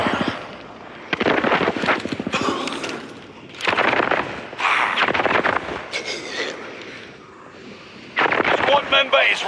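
A frag grenade goes off in a multiplayer shooter video game, one of several loud booming blasts and bursts of gunfire that come in separate bursts between quiet gaps. A voice speaks in among them.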